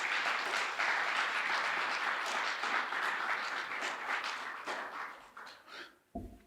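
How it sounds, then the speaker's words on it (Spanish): A church congregation claps in a sustained burst of dense applause that swells and then thins out and fades near the end, with little talk over it. "Dele un aplauso al Señor,"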